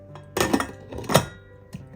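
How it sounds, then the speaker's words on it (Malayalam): A pressure cooker lid is set down over ground urad dal batter for dosa and idli, giving a few close metallic clanks and clinks of cookware, then quiet. "കുക്കർ മൂടി കൊടുക്കും"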